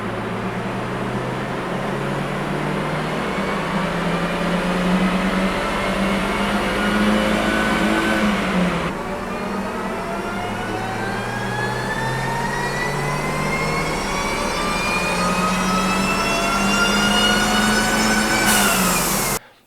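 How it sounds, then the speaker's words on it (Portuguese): A supercharged car engine revs up in two long, rising pulls with a steady mechanical whine climbing in pitch, loud and close, before cutting off abruptly. "Eu gosto do som do Supercharger, tem muita gente que detesta, mas eu adoro o som do Supercharger."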